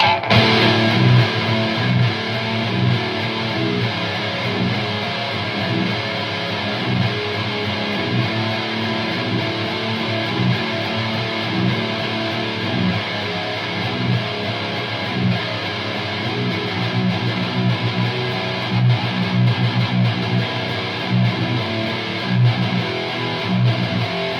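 A thick, heavily distorted electric guitar plays continuously and loudly, with dense low-end chugging throughout and no voices; a Jackson JS22Q-7 seven-string with Seymour Duncan Blackouts pickups.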